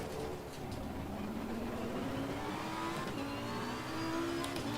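A Lamborghini Huracan Super Trofeo Evo race car engine in a racing video game at Spa drones steadily with rising and falling pitch, moderately quiet and continuous, with no one talking.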